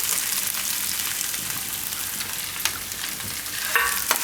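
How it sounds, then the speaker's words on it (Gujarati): Carrots, added after onions, fry in a pan with a continuous soft sizzle, punctuated by a few sharper scrapes and taps as they are stirred. "તો ગાજરને થોડીક વાર પકાવી લેવું."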